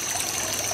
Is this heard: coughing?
no